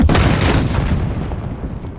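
A grenade blast in a video game, one heavy close boom at the start that rolls away and fades over about two seconds.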